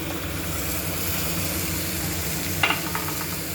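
Cauliflower and peas for a kurma are stirred in a hot pan, a continuous soft sizzle and scrape with one brief clink of the utensil near the end.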